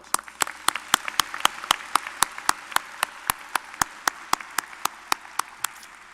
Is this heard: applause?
yes